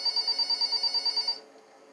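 A telephone rings in the video game Nights with Peashooters, with rapid repeated electronic trills that last about a second and a half before stopping abruptly.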